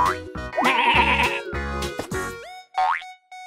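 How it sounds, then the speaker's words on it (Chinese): Cartoon sheep bleating in an animated children's show, several wavering, tonal bleats mixed with springy boing-like sound effects, clear and close against a music-like bed. "绵羊"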